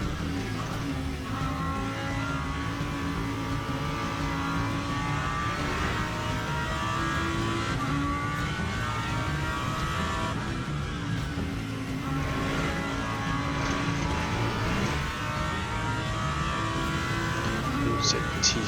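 A race car in Le Mans Ultimate on the Circuit de la Sarthe, its engine droning continuously at high revs and pulling hard under acceleration, close and steady throughout.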